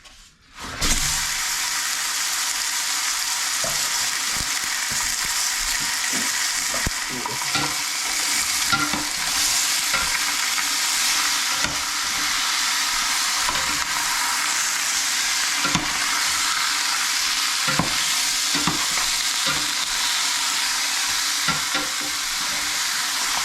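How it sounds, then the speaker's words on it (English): Beef stew meat browns in a pot with a loud, steady sizzle and hiss that runs unbroken throughout, broken now and then by the scrape and clack of stirring. "Now that the stew meat is browned"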